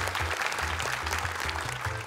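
An audience claps for young Quran memorisers at a recognition event, producing dense, continuous applause at close range with no talk over it.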